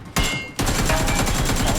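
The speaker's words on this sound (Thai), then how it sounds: "ยิงซ้ำแม่งเลย" Rapid bursts of gunfire in PUBG aimed at a Porter truck, loud and close, a short shot then a sustained stream of repeated rounds.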